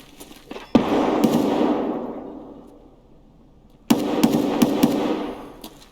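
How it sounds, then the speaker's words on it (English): Two loud, sharp gunshots in Escape From Tarkov, the first near the start and the second several seconds later, each ringing out into a long decaying echo with no talk. "That gunshot's by me."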